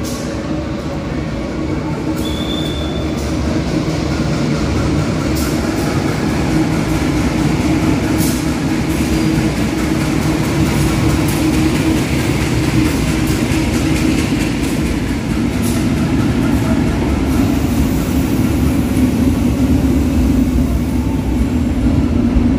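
An empty special KLB train rolls slowly into track 1 with a steady, loud rumble of wheels and cars, with faint squeals and clicks over the continuous heavy drone.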